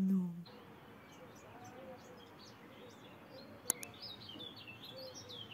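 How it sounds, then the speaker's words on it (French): Small birds singing in springtime, with scattered faint high chirps and tweets well in the distance over a soft steady background hiss, after a brief low thump at the start. "C'est pas trop agréable d'entendre les oiseaux qui chantent."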